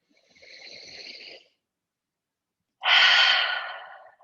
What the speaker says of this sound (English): take a cleansing breath together